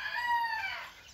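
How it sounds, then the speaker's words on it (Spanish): A rooster crows at dawn in a rural spot with small birds around, one drawn-out call heard fairly close and clear, fading at the end. "canto de los gallos, de los pajaritos"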